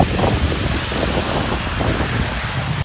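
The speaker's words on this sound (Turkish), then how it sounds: "Doğu Akdeniz'deki şiddetli rüzgar Hatay'da korku dolu anlara neden oldu." Strong wind roars over crashing sea waves at Samandağ harbour in Hatay on the eastern Mediterranean, a loud continuous rushing wash with microphone wind buffeting, alone without voices.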